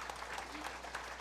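An assembly at a Buddhist fire puja ceremony at Rainbow Temple applauds, a soft, steady wash of clapping with no talk over it.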